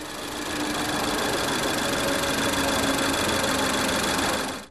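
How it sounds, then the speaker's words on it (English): A 2011 Volvo's 203-horsepower four-cylinder turbo direct-injection engine runs at a steady, even hum with a buzzing, mechanical whir, held constant before cutting off abruptly. "With its special new turbo system and direct injection technology, the little 4-cylinder engine boasts 203 horsepower."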